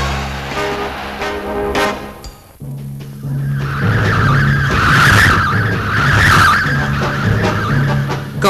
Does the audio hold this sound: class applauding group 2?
no